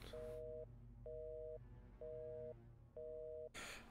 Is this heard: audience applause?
no